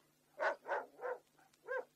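Dogs let loose on a manhunt in a frontier western setting, giving four loud, evenly spaced barks, the last after a short pause, with no talk over them.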